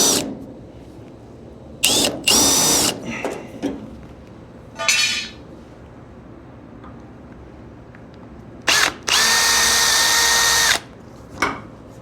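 Power drill boring into the rear window frame of a 1941 Chevy, several short whining bursts with pauses, ending in a longer steady run, close and loud with no talk.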